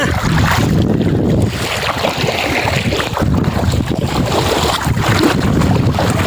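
Strong wind and surging water at Goa beach, a loud continuous roar with heavy wind buffeting on the microphone and no clear breaks.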